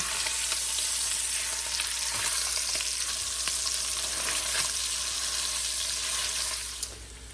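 Sausage cooking in a pan for Zuppa Toscana soup, a loud, dense, continuous sizzle with faint crackles that eases off at the very end, heard close with no voices.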